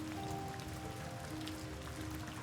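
Heavy rain pours steadily as a sound effect in a dramatic audio story, a dense, even hiss of drops on surfaces, continuous and moderately quiet with no voices.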